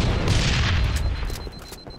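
A grenade blast in Halo 3 rank multiplayer: a loud booming burst at the start with a broad rumbling tail that fades over a couple of seconds, followed by scattered faint gunfire.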